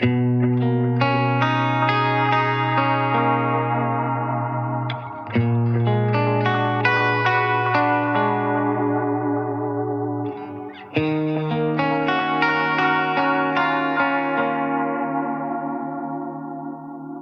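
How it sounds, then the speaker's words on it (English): Electric guitar chords ring out through a shimmering, wavering modulated delay from a Wampler Metaverse pedal, each strum repeating and smearing into a lush, echoing tail; three strums in sequence. "Turn up the modulation on that. Have a listen."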